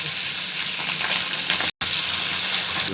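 Onions sizzling loudly in a hot pan with vinegar for chilli chicken, a steady close frying hiss with a brief cut partway through.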